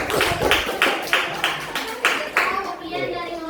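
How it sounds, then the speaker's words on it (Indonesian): A class of high school students gives a round of applause to a group that has just presented, about eight rhythmic clapped beats in unison, fairly close, with children's voices chattering underneath before it trails off. "Dan tepuk tangan untuk kelompok ini."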